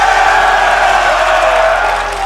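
Crowd at a Rainbow Six esports grand final in Atlanta cheering and whooping for Team Bolo, a loud sustained roar of many voices filling the space, easing slightly toward the end.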